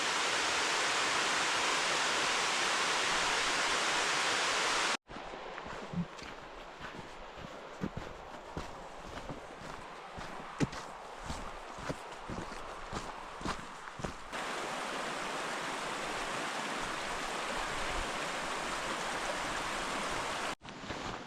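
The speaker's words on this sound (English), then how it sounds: "Twister Falls while snow is falling" Twister Falls in Yellowstone pours steadily in falling snow, a broadband rushing roar that starts strong, then sits lower beneath crunching footsteps before swelling again.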